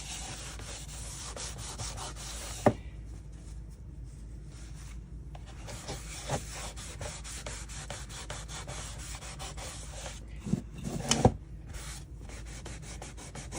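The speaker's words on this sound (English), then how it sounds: "I am going to put some wax on the back as well" Wax is rubbed by hand onto the back of a painted wooden furniture piece, a soft continuous scrubbing with brief pauses and a few small knocks near the end, close and quiet.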